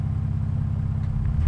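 A 2024 Ford Ranger Raptor in off-road Baja mode idles with a loud, steady low engine and exhaust rumble, deep and continuous with no talking over it.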